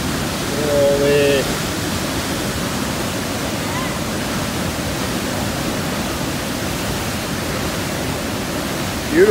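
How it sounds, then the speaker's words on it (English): A steady, powerful roar of rushing water through a canyon fills the whole clip, broad and constant like a torrent below, with a brief faint voice near the start. "The roar of that water, you can just hear the power."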